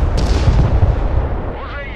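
Heavy artillery fire rumbles in the video game Broken Arrow, a continuous deep booming barrage loud and close, with a faint tonal whine near the end.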